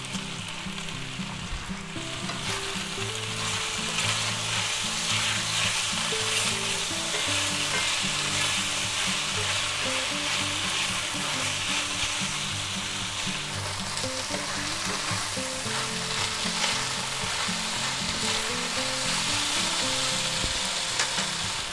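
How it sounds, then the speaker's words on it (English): Minced garlic sizzles in a pan of chicken and broccoli stir fry with mushrooms, a steady, loud frying hiss with intermittent spatula stirring and scraping heard close up for the whole stretch. "Now we're going to add 1 tablespoon of minced garlic."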